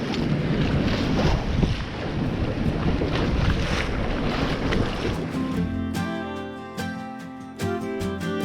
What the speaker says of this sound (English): Waves nearly breaking out the middle of the bay here where we are.